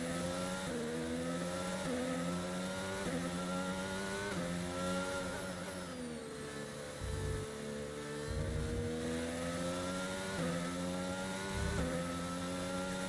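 A Formula 1 race car in F1 22 drives at the Canadian Grand Prix, its high-pitched engine whine rising and falling steadily through gear changes while overtaking another car, loud and continuous.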